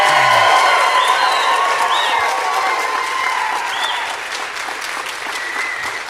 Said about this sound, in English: if we can keep our applause till the end of each round